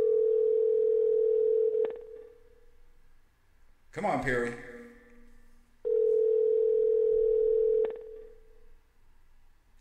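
Ringback tone on an outgoing telephone call, two long steady rings separated by a pause, loud and close, with someone briefly talking between them.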